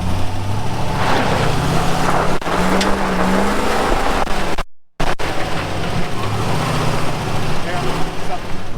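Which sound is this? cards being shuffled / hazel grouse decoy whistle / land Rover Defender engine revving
land Rover Defender engine revving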